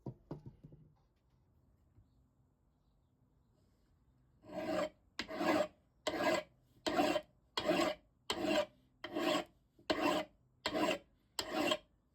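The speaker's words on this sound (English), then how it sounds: "I'm going to switch over to a file" A hand file rasps across metal furniture tacks in ten steady strokes, each a crisp, close scraping burst separated by short pauses, following a few seconds of quiet.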